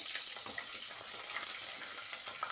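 Halved peeled garlic cloves sautéing in a pan for brinjal curry, a faint, even hiss of sizzling oil with light stirring, and no one speaking.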